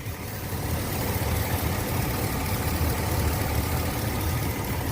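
A 2005 GMC Sierra / Chevy Silverado engine runs at a steady idle, producing a continuous rumbling drone with a constant level and no talk.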